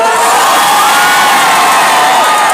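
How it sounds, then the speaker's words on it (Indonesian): Loud, close crowd at a political victory rally cheering and shouting with high excited voices, a dense continuous roar throughout. "Coba tepuk tangan lagi dong."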